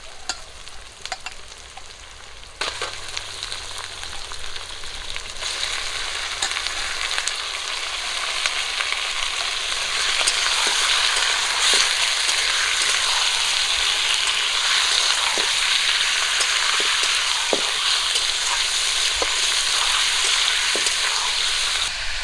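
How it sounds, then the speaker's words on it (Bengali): Chicken pieces frying in a pan with onion and tomato for a Bengali chicken curry, a steady loud sizzle that swells after a few seconds and holds, with occasional sharp crackles and stirring scrapes. "ভাজা হয়ে গেছে ধুয়ে রাখা চিকেনগুলো দিয়ে দেবো"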